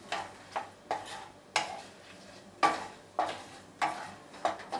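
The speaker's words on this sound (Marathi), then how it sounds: "तेल तापल्याच्या नंतर हा खडा मसाला आहे ना तो घालूया। थोडासा असा परतून घ्यायचा आहे।" Whole spices are stirred in hot oil in a pan, with a spoon scraping in regular strokes about every half second over a soft, faint sizzle.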